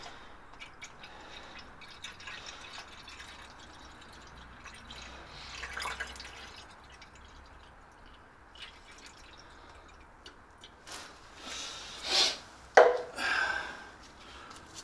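Spilt radiator water dripping from a 1954 Morris Minor during engine mount work, scattered soft drips and splashes in a quiet garage, with a few louder clustered drops and knocks near the end.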